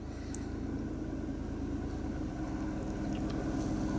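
A cold car engine idles steadily during a test with an Autel Maxisys MS906BT scan tool, a low continuous rumble with an even mechanical pulse, close and alone.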